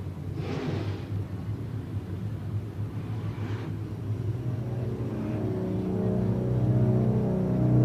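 IMCA stock cars race around a dirt track at the West Coast Nationals, their engines a deep, swelling roar that builds steadily louder as the pack approaches the green flag.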